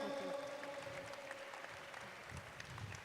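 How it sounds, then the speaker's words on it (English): Audience applause at a Bollywood press conference event, a moderate, even spread of clapping beneath a faint sustained tone and some low rumble, continuing for a few seconds. "Big round of applause for them."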